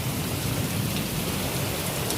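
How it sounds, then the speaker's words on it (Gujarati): Dense, steady downpour with a constant hiss of rain hitting surfaces, loud and unbroken throughout. "વરસાદ બહુ જ આવે"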